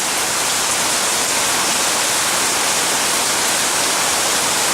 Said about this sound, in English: See, the water can come through here as well.